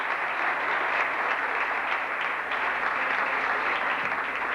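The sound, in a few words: audience applause for guests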